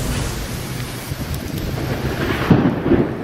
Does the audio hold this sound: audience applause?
no